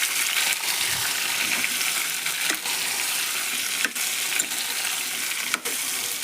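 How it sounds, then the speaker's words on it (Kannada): Brinjal pieces frying in oil in a pan, a continuous loud sizzle broken by a few sharp scraping knocks as they are stirred and turned, no talking. "ಇವನ್ನ ತಳಗ ಮೇಲೆ ಫ್ರೈ ಮಾಡೋಣ್ರಿ. ಒಂದು ಸ್ವಲ್ಪ ಕೈ ಆಡ್ಸೋಣಂತ."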